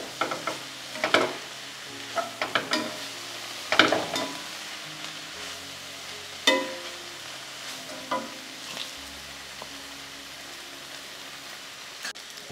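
Pasta is stirred in a frying pan, scattered clinks and scrapes of a utensil against the pan over a soft, steady sizzle, close and unhurried.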